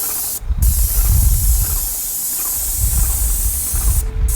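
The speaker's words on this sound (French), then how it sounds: "Joss incline, vous le voyez, son pistolet de façon à ce que la lasure rentre à l'intérieur" A Graco Magnum airless paint sprayer applies wood stain to a log garden shed, giving a loud, steady hiss in two long bursts separated by a brief pause.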